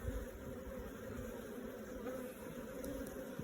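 A small honey bee swarm buzzes in a steady, even drone during a hive check, close and continuous with no voices.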